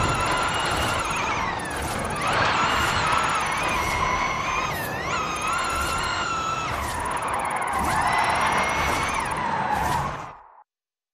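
Tyres squeal and skid without a break as a car drifts in Forza Horizon 5, engine revs rising and falling underneath. The sound is loud and steady for about ten seconds, then cuts off.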